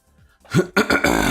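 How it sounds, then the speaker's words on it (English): A short throat clearing, close and loud, heard alone in a rough burst lasting about a second. "Sorry for clearing my throat, guys."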